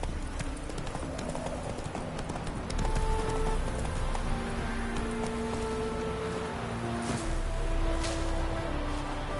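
In The Witcher 3, a horse gallops with rapid, rhythmic hoof clip-clops, joined by rain-like patter, while game speech and music tones sit in the background.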